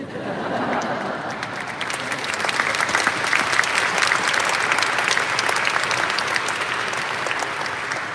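A large audience at a literary event in Zagreb breaks into loud, dense applause, a steady roar of many hands clapping that swells slightly midway and continues without pause.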